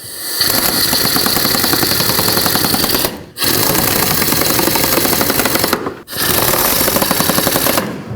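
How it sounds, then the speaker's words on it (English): A ratchet with a 10mm socket snugs up water pump bolts on a 2003-2021 Chevrolet Express, giving loud, continuous rapid clicking in three bursts separated by brief pauses as the handle is repositioned. "And now I'm going to just snug them up. 10mm socket."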